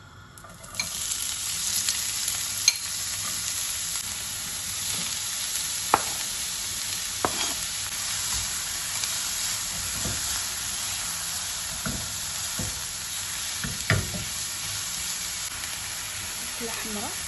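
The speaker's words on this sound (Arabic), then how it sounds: "بعد ما درت الزيت بالزيت، درت عليها البصله كباريه وبصله عاديه حمراء" Red onions and green onions fry in hot oil, a continuous close sizzle with occasional clinks and stirring scrapes of a utensil against the pan across the whole stretch.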